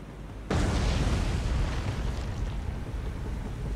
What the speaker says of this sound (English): looks like another two torpedoes are going to hit this one